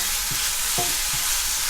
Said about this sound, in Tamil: இது நல்லா வதங்கணும்